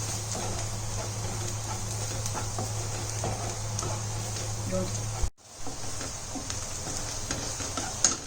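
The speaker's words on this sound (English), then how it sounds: "Now let it fry for some more time." Minced meat kheema fries in a pan with turmeric, coriander powder and spices, giving a steady close sizzle with faint stirring ticks that cuts out briefly and then resumes.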